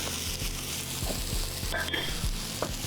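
Bacon and potatoes fry in a cast iron skillet with a dense, even sizzle, broken by scraping pushes of a utensil and a few sharper clinks.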